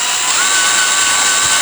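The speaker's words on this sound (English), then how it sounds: "Drill that through very, very slowly." Power drill boring slowly through the bleed port of a Shimano hydraulic bicycle shifter, a steady high-pitched whine held close and clear for the whole brief stretch, with no talk.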